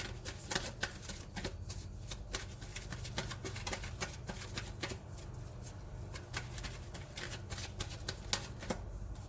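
Tarot cards shuffled continuously by hand for a reading, a dense crisp patter of riffling and flicking card edges, close and steady throughout with no talking.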